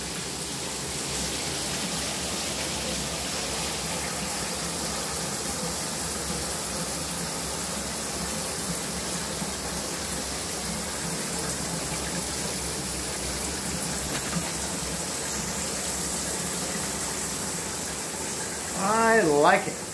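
Steady rush of running water, like a rain shower, continuous and fairly close, with a brief voice near the end.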